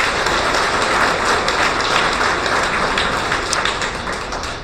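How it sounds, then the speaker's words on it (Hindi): An audience at a gathering applauds, a dense, steady wash of clapping from many hands that holds evenly throughout and fades slightly at the end, with no voices. "तालियां।"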